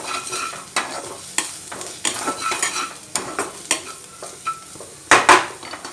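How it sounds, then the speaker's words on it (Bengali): A spatula scrapes repeatedly through chili powder and roasted cumin powder in a sizzling pan, giving quick rhythmic strokes and clinks over a bed of frying noise, close and fairly loud. "দিয়ে আমি ভালো করে নাড়িয়ে নিই"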